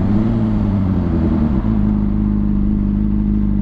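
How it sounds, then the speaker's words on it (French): A Lamborghini Huracán engine revs loudly and close by, with a rising turbo whine and whoosh, then settles into a steady roar. "Bruit de turbine"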